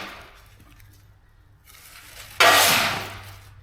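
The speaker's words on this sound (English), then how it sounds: "It's a lot of sanding right there." Sanding the body of a Cadillac-finned hot rod: after a quiet stretch, a loud, steady, rough hiss of abrasive on metal starts abruptly and keeps going close by.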